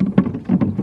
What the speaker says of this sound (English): So I'm gonna let this water out of here.